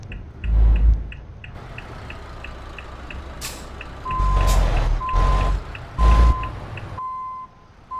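A truck backing up in Euro Truck Simulator 2 sounds steady, evenly spaced reversing beeps over a low engine rumble, with loud hissing air brake bursts in between.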